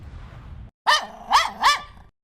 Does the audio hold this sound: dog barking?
yes